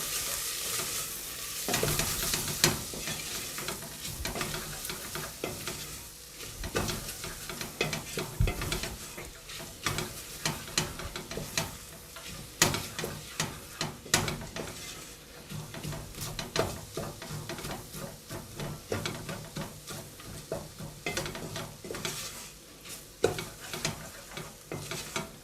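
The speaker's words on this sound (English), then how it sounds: "Give that a good stir." A spoon stirs spices and garam masala frying in a pan, with repeated scraping strokes over a constant sizzle, close and busy throughout.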